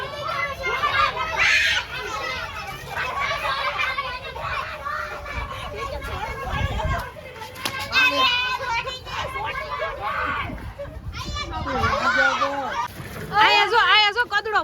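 Children playing outdoors during Holi, throwing water and mud, with excited shouts, chatter and laughter over intermittent splashes, busy and close throughout.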